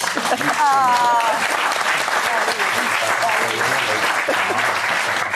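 A studio audience applauds on a French TV talk show, dense and loud clapping throughout while people talk over it.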